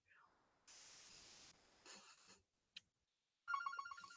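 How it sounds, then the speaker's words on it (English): A telephone rings with a short repeating electronic ringtone near the end, after scattered soft noises and brief hissing bursts. "I wonder if I can reach it to turn off the ringer."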